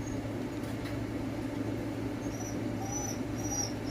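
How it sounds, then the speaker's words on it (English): A pet dog whimpers in a few short, thin, high whines, faint and close, over a steady low room hum. "I had a dog interruption."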